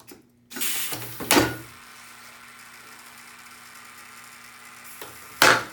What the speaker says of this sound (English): you'll find that the servo does jump, therefore the doors will jump